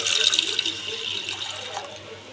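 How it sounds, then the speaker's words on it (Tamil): Water poured from a glass into a cooking pot while preparing a village-style greens and lentil dish, a steady splashing stream running for a couple of seconds, close and moderately loud with no talking. "ஒரு கிளாஸ் தண்ணி இப்போ ஊற்றிட்டு"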